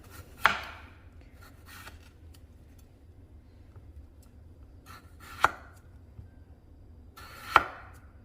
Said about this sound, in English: I just wash the skin on these gold potatoes and I'm going to slice them.